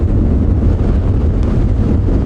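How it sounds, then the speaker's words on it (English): Steady wind buffeting the microphone on a morning safari drive at Djuma Game Reserve, a continuous low rumbling roar with no pauses, close and loud. "Oh, this wind."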